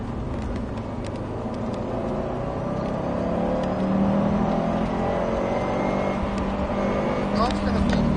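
Subaru WRX STI rolling off the brake and feeding in a little throttle, the engine note droning and gradually rising inside the cabin under steady road noise, with speech over it.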